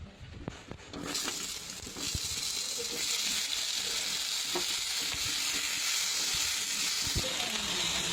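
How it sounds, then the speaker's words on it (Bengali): Steady loud sizzling of onion, tomato and ginger frying in oil previously used for frying fish, with a few scraping stirs near the start and occasional clicks throughout. "আমি এগুলো ওই মাছ ভাজার তেলের মধ্যে দিয়ে ভেজে নেব"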